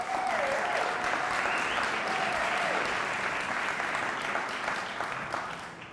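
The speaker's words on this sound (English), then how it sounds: "Ladies and gentlemen, please give Davey Tsopo a warm round of applause." An audience gives warm applause at a small business showcase event, dense even clapping sustained throughout with a few faint voices rising above it before fading slightly at the close.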